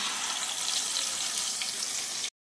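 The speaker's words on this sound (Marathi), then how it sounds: "त्याच्यानंतर हा वाटलेला मसाला टाकायचा।" Ground masala hitting hot oil for misal, a loud, steady, close sizzle that runs without a break and then cuts off abruptly.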